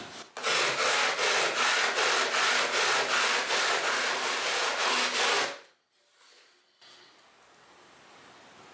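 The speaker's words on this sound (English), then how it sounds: "do some sanding." Steady rhythmic sanding of a wooden instrument back by its heel block, loud and close, with regular back-and-forth strokes that stop abruptly, leaving quiet room noise.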